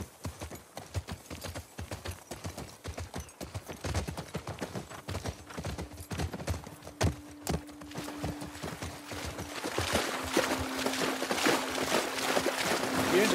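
Horses walk in The Last of Us Part II, their hooves giving a steady rhythmic clip-clop that stays close and continuous, with a low hum and rushing noise building toward the end.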